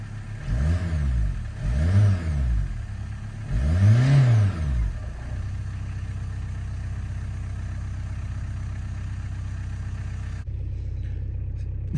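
A 1990 VW Jetta MK2 engine with an alternator and charging fault, revved three times in rising-and-falling surges, then settling into a steady idle before a sudden cut in the background.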